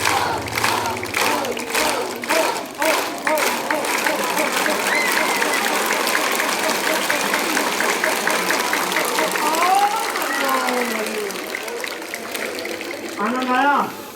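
Schoolchildren at a public school clap together in a group, a dense, sustained crowd applause lasting throughout, with voices and cheering mixed in and a few shouts near the end.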